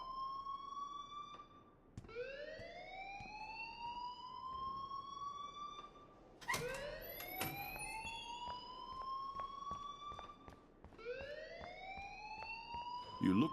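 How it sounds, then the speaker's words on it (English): An alarm in the Life is Strange video game wails in rising sweeps that repeat about every four seconds, loud and tonal, with faint voices in the background. "please turn off that alarm since that's your job"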